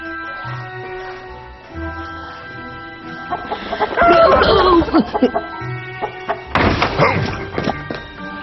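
A chicken clucks in short bursts near the microphone, with thumps and rustling around it and a louder flurry of clucking toward the end.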